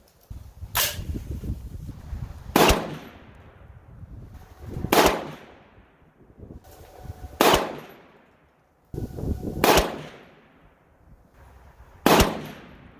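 Five loud, sharp rifle shots from a PSA 6.5 Grendel, fired one at a time at steady intervals of about two seconds, each with a ringing decay.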